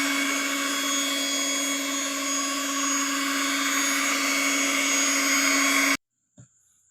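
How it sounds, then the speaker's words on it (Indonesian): Electric blender running steadily on coconut to make virgin coconut oil, a loud continuous motor whine for about six seconds that cuts off abruptly, followed by a brief faint knock. "Kita akan terus mixer sampai hasilnya nanti"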